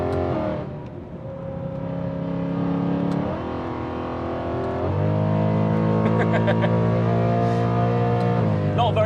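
A BMW E92 M3 on the Nürburgring, its engine droning at high revs, with pitch rising through the gears, dipping at shifts and climbing again, heard loud from inside the car.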